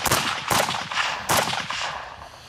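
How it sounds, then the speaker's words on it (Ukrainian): Loud single rifle shots at a shooting range, ten fired one at a time, sharp cracks at steady intervals with short echoes between them. "10 одиночних пострілів."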